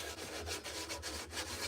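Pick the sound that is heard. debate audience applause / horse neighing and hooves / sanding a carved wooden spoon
sanding a carved wooden spoon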